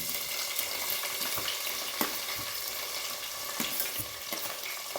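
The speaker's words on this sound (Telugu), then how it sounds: "ఆనియన్స్ గోల్డెన్ బ్రౌన్ వచ్చేంత వరకు వేయించాలి ఫ్రెండ్స్" Onions frying in hot oil with whole garam masala for a hotel-style spicy chicken biryani, a continuous soft sizzle with faint stirring scrapes, moderately quiet and with no voices over it.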